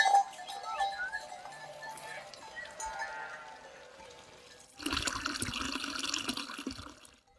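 Water from a mountain spring near a pine forest runs steadily and close by, with bleating sheep or goats from a grazing flock mixed in. The water grows louder and fuller toward the end.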